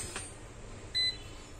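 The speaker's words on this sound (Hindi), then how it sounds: "प्रोसेसर सेक्शन में लगे हुए कुछ कॉइल है, बीप कर रहे हैं।" A single short, high-pitched beep from coils in the processor section of a Dell Vostro laptop with a power-on, no-display fault. It rings out briefly and alone over a faint background hiss.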